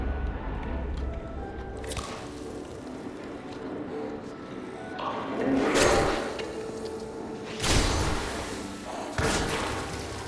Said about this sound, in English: So you see that explosion?